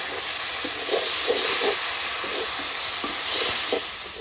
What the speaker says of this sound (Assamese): কাটি থোৱা আলুখিনি অলপ ভাজি লওঁ